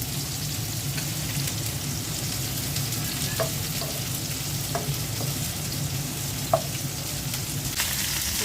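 Chopped onion fries in hot oil in a cooking pot with a continuous, even hiss and crackle, punctuated by a few soft clinks of a utensil against the pot.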